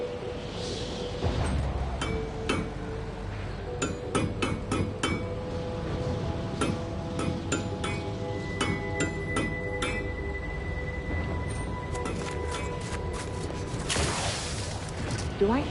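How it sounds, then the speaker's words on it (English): Metallic clinks and hammer taps ring out from nearby stations in The Outer Worlds 2, irregular strikes and clanks scattered over a low mechanical hum, with a louder burst near the end. "Do I hear hammering from the other stations?"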